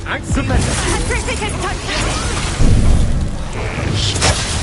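A Confringo blasting spell bursts with booming explosive impacts amid spell-combat effects in Hogwarts Legacy, with a loud thump near the middle and spoken dialogue running over it throughout.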